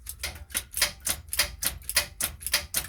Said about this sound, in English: You hear solenoid clicking on.